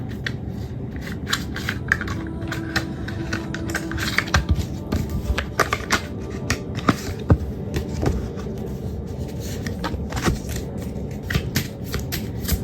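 Oracle cards being shuffled and drawn from a deck, a steady papery riffle and rustle with sharp little snaps and taps throughout, close and fairly loud with no talking.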